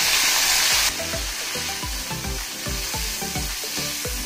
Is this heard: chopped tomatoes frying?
yes